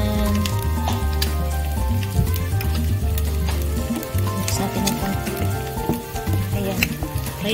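Corned beef and potato cook in a pan with a dense, steady bubbling and sizzling that stays loud and close, with light stirring and faint voices in the background.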